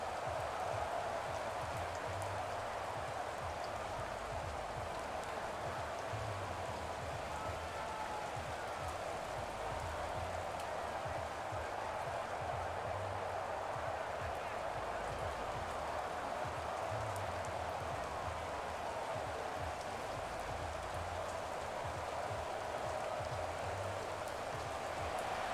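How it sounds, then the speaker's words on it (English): Steady rain falls across a Madden 23 college football match between Notre Dame and Tennessee, a constant soft hiss with faint crowd murmur beneath it and no clear pauses. "The rain set to continue as we are underway in the second half."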